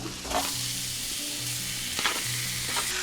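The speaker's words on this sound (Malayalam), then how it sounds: "ഇതിനെ നമ്മൾ ഇതിനകത്തോട്ട് നമ്മുടെ സ്മാഷ് ചെയ്ത് വെച്ചേക്കുന്ന ഉരുളക്കിഴങ്ങിടുക" Smashed potatoes going into a sizzling pan for spicy potato bhaji, with a loud, steady frying hiss and occasional stirring scrapes throughout, no voices.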